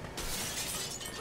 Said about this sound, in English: a glass breaking.